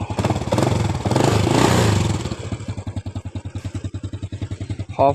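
An old Honda Dream C100P motorcycle engine idles with a steady, rapid putter, loud and close, after a brief rougher burst at the start.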